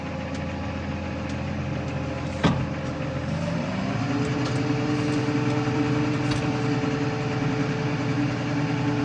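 A New Holland T7.190 tractor rated at 190 hp idles with a steady hum, gives a brief clunk, then its engine note rises slightly as it pulls away. No one speaks.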